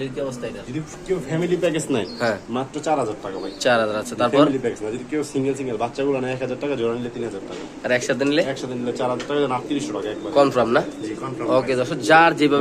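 Pigeons coo continuously in the background at a pigeon sale while people talk over them at close range.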